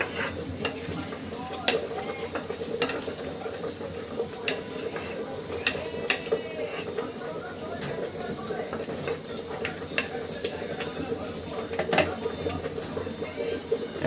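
Tomatoes being stirred as they fry in a pan, giving a steady sizzle with scraping and clinking of the spoon against the pan throughout.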